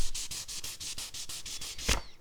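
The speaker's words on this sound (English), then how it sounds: "So we're not really sanding this as much as we're just sort of scuffing the surface." Hand sanding to scuff the painted finish of a Plymouth Barracuda, a rhythmic back-and-forth rasp of abrasive on paint repeating about every fifth of a second, close and crisp, ending in a brief louder scrape.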